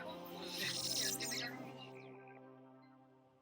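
Native birds calling at a feeding spot in a park on Curaçao, a single loud warbling, chirping call that swells and then trails off into a fading tonal note over a few seconds.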